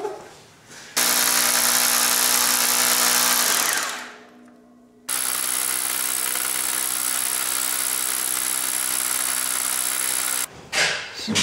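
A power drill fitted with a very long drill bit whines loudly in two long sustained runs, separated by a pause where it winds down, then stops with a short rattle.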